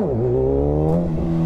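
A stock Kawasaki Ninja ZX6R sport bike engine revs hard as the rider lifts into a wheelie, the pitch falling then climbing steadily in one loud, close, continuous pull with no talking.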